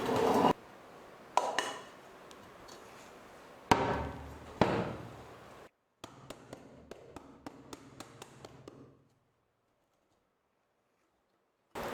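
A cooled eggless cake cooked in a kadai, no oven, is lifted out and moved onto a plate, with sharp taps and knocks of the pan and tray in bursts, then a run of light clinks before the sound drops away.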